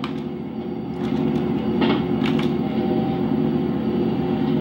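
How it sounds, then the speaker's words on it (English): A train rolls along steadily in the GTA San Andreas video game, a continuous loud low rumble with a slight lift after the first second and a few sharp metallic clanks midway. "stop the train"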